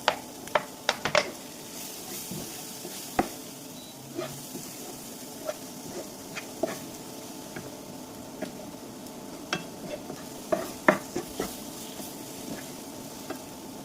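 Fish masala sizzles in coconut oil in a pan, a steady frying hiss under repeated sharp scrapes and clinks of a spoon stirring, with louder clusters of taps near the start and again toward the end.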